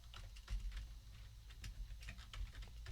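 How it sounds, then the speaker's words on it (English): Rapid computer keyboard typing of a command, a quick burst of light key clicks in uneven rhythm, faint and close-miked with no talking. "you can just type in Watchman"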